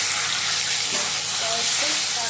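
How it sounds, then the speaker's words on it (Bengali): Cumin seeds and bay leaves tempering in hot oil give a loud, steady, hissing sizzle throughout, with a faint voice in the background. "তেলে জিরে ছেড়ে দিয়েছি জিরে তেজপাতা ফোড়ন দিয়ে"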